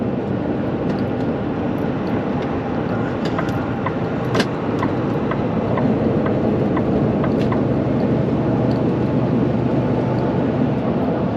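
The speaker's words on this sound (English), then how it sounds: "There's a greedy truck going the other way." Inside a vehicle on a highway between Portland and Yakima, a truck rushes past in the opposite direction, its broad roar blending into steady loud road and engine noise throughout.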